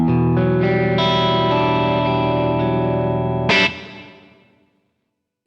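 Electric guitar through a vintage digital reverb plugin, sustained distorted chords ringing loud and steady, then a bright strum that cuts off into a long reverb tail fading to silence.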